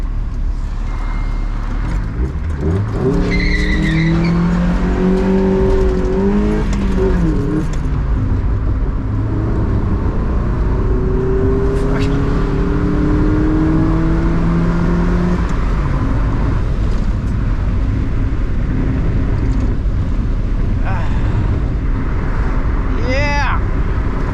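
Honda Integra DC2 with a newly replaced fuel pump drives on a test drive, its engine droning steadily inside the cabin with rising and falling revs, while someone talks over it.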